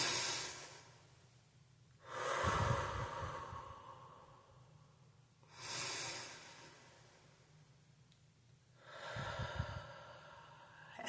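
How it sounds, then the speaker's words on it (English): Three slow, deep breaths drawn and released about every three and a half seconds, each a soft airy inhale-exhale heard up close over a quiet room, with no talking. "take 3 deep breaths"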